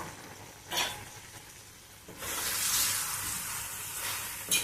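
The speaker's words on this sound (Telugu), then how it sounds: "ఇప్పుడు కరివేపాకు కూడా వేస్తున్నాను." Curry leaves dropped into hot oil for a Telugu-style pumpkin curry crackle into a loud, close sizzle that swells and holds steady, with a brief burst just before it.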